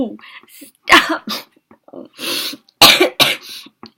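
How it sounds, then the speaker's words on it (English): One person coughs in several harsh, throaty bursts, close and loud, separated by short pauses and breaths. "I'm still coughing."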